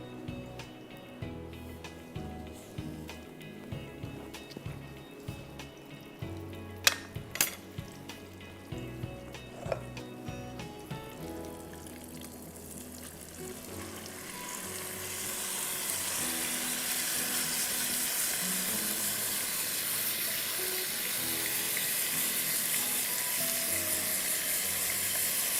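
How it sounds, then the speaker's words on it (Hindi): Garlic hits hot oil and butter in a pan, with a few clinks of utensils first, then a steady, moderately loud sizzle builds and holds for the second half. "हीट ऑयल एंड बटर, इसमें जाएगा गार्लिक"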